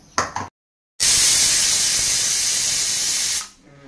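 A pressure cooker cooking suran and potatoes releases a loud, sustained steam hiss for about two and a half seconds, close by, after a short clatter and a moment of silence, then tapers off.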